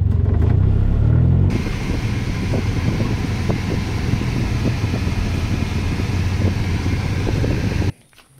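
A homemade gyrocopter engine drones steadily through loud mufflers, a deep close rumble with a brief heavier surge at the start, running continuously before cutting off abruptly near the end.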